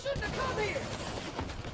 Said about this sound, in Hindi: ये देख रहे हो फिर रैंडमली गोलियां चला रहे हैं